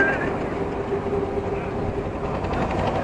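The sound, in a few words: trawler boat engine on a canal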